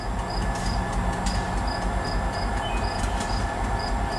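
Reading and Northern No. 425, a 1928 Baldwin 4-6-2 light Pacific steam locomotive, rumbles steadily and loudly up close, with a repeating high metallic ring over the low roar and no talk.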